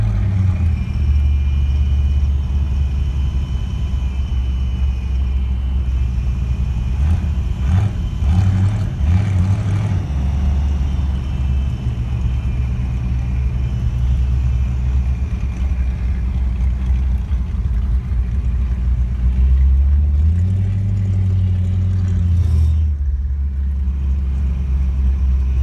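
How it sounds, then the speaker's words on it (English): The number 55 race car laps Texas Motor Speedway with a steady engine rumble that rises and falls slightly as it circles, loud and continuous with no talk. "Couple laps, Texas Motor Speedway."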